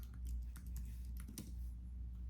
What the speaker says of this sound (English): Typing something on my computer because I want to show it.